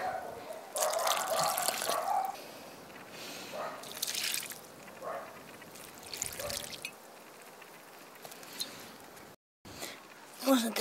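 Liquid fertilizer is poured from a jar onto spring strawberry plants in a garden bed, a close, intermittent trickling splash in short bursts with soft handling noises around it.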